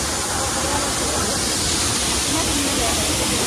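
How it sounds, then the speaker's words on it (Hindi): Dariya waterfall near Itanagar, Arunachal Pradesh, roars as a steady, dense wash of falling water with no breaks, loud and close throughout. "ये झरना है, झरना का सामने"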